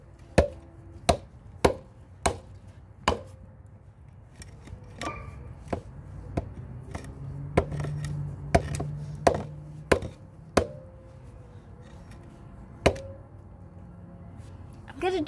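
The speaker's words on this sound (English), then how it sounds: "I'm chopping it, don't worry." A knife chopping food on a board, with sharp, distinct strikes coming in irregular bursts, some quick runs and some pauses, close by and fairly quiet, over faint background hum.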